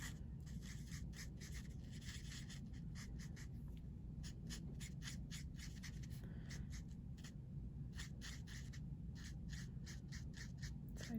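Marker or pen strokes scratching across a handmade hinge closure card, coloring over earlier color in quick repeated rubbing bursts that stay close and steady throughout, with no talk.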